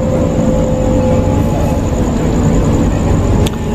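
Jayakarta Premium, a long passenger train, pulls out of Lempuyangan station with a loud, steady rumble of wheels and engine, a sustained tonal drone running throughout and a sharp clank near the end.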